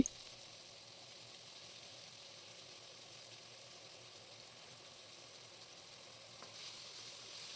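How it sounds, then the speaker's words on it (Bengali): Chopped onion frying in hot oil in a cooking pot, a steady soft sizzle that holds at an even low level from start to finish, with no talking. "তেলটা আমার গরম হয়ে গিয়েছে, এখন দিয়ে দিচ্ছি আমি পেঁয়াজ কুচি"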